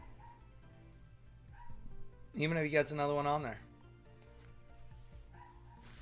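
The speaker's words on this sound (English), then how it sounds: "That was a dog, yes. A dog outside." A dog barks outside in a short burst of about one second, sounding fairly strong against a quiet room while a person speaks softly nearby.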